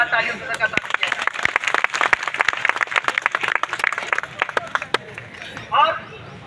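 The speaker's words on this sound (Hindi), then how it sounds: "चाहूंगा कि जोरदार तालियों से स्वागत किया जाए।" Crowd applause welcoming a speaker at a gathering at Eco Garden in Lucknow; scattered sharp claps build into steady clapping under chatter and voices, then thin out toward the end.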